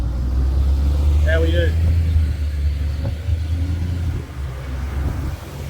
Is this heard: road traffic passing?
yes